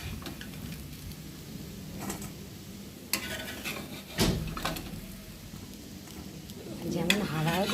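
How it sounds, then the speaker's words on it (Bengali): Coconut fritters fry in a pan with a steady close sizzle, broken by a few clinks and scrapes of a utensil against the pan. "আমি এখন একে একে বড়াগুলোকে ভেজে নেব"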